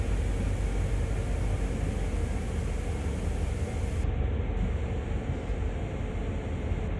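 In the Train Sim World video game, a freight train heading to Oak Point Yard gives off a steady, loud rumble and hiss while braking, continuous throughout with no talk.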